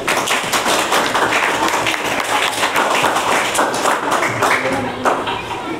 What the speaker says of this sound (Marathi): जान्हवी, माझ्याकडनं तुला जोरदार टाळ्या वाजवायच्या.